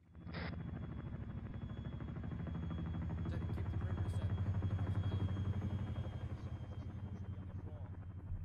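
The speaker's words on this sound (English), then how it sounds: "Stop looking at the chopper." A helicopter runs steadily at a military-style field operation, its rotor thudding in a low, even rhythm at moderate distance, a continuous drone with no talk.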